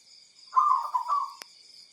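A local zebra dove (perkutut) calls at night around 1 a.m. with one warbling cooing phrase lasting under a second. It sounds moderately close, over a steady high, insect-like drone.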